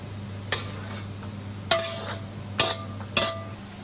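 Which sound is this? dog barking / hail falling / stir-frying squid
stir-frying squid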